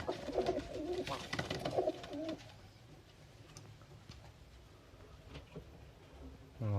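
Pigeons of a Mordovian tumbler breed coo in a loft, the calls loud and clustered over the first two seconds, then fainter birds murmur on against a quiet background.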